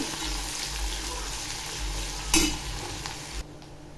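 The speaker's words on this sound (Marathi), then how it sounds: "कांदा चांगला फ्राय करून घ्यायचा तेलामध्ये" Onion fries in oil for a pea and paneer curry, a continuous sizzle with stirring scrapes and one sharp clank from the pan near the end, then a sudden drop in level.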